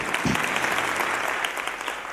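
An audience at a charity launch event claps steadily for the whole moment, a dense, even applause from a crowd indoors with a brief low thump near the start.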